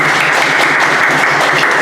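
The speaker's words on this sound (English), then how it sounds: "So let's have a small round of applause for both." Applause from a debate audience congratulating both teams after a world schools championship round, a steady dense wash of clapping filling the room without pause.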